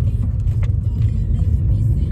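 Steady low road rumble and engine hum from inside a car on a drive to Tesco, continuous and fairly loud with no talking.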